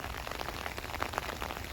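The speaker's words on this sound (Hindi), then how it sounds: "बाहर का ज़बरदस्त वेदर है, बारिश बारिश वाला" Steady rain falls outdoors, a dense, even patter with scattered louder drops, continuous and fairly close, with no talking.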